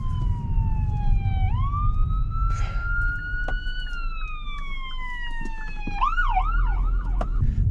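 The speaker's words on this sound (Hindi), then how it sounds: "ओ यहाँ से आ रही है ये इमरजेंसी वाली एम्बुलेंस।" An emergency ambulance passes through city traffic in Winnipeg, Canada, its siren rising and holding a long wail before switching to a rapid yelp, loud and clear over steady road rumble.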